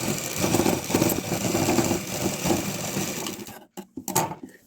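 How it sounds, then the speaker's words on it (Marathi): A sewing machine stitches along a pen-marked line on a cloth bag with a steady rapid mechanical whirring run, then stops and starts in a few short bursts near the end. "त्याच्यावर पूर्ण टिप मारत जायची आहे, पूर्ण टिप मारायची आहे त्याच्यावर"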